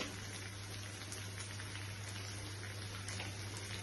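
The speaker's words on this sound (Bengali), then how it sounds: "পটল দিয়ে আমি এখন জল দিয়ে দিচ্ছি।" Water poured into a pot of pointed gourd (potol) for a Bengali curry, a continuous soft splashing and bubbling hiss at low volume with a steady hum underneath and no talking.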